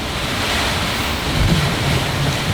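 Ocean waves surge and wash over a sailing boat on a fast offshore passage south of Madagascar, a loud, steady rush of water mixed with strong wind buffeting the microphone.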